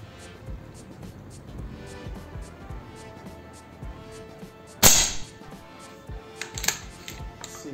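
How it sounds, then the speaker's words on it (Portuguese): A URKO III bullpup blaster fires a single sharp, loud crack against quiet background noise, followed a moment later by a couple of smaller clicks and knocks. "Vamos lá, primeiro disparo."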